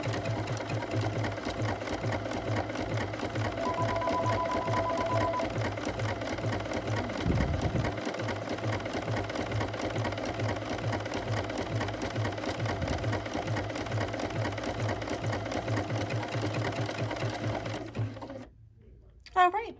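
A Bernina sewing machine stitches the beads of a buttonhole in stretchy fabric with an overlock-type stitch, a steady rapid mechanical chatter that runs close and continuous before stopping near the end, with a voice talking over it.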